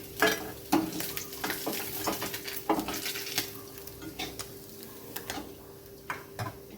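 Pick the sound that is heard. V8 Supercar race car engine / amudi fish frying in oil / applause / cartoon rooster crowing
amudi fish frying in oil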